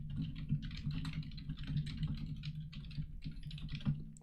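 Rapid, uneven clatter of keys on a computer keyboard during coding work, close and continuous with a low hum underneath and no talking.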